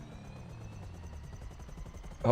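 A helicopter in Grand Theft Auto V whirs with rapid, regular rotor chopping and a steady engine whine at moderate volume, ending in a sudden louder impact-like burst.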